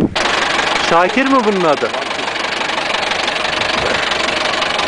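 A tractor engine idles steadily with a low, even mechanical rumble on a rainy day in a Kars village, while a voice speaks briefly near the start.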